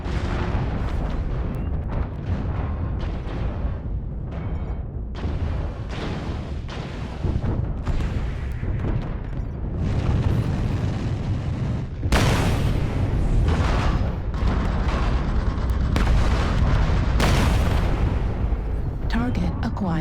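Booming missile explosions and heavy impacts in a combat video game, repeated loud blasts with rumbling low end, some sharper bursts, continuing throughout alongside game noise.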